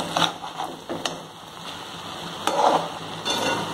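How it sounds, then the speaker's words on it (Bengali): Rice being stirred into fried chicken in a pan over very low heat for Hyderabadi-style chicken rice, soft gentle sizzling with a few scraping spatula strokes, close and quiet. "আস্তে আস্তে চিকেনের সাথে ভাতটা মিশিয়ে দিচ্ছি।"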